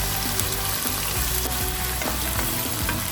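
Chopped onions fry in a hot pan for mutton biryani, a steady dense sizzle with occasional stirring scrapes, close and continuous with no talking.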